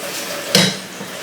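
A cooking pot of soaked lentils is set down on a home kitchen stove, making a single sharp metallic clank mid-clip over quiet room noise.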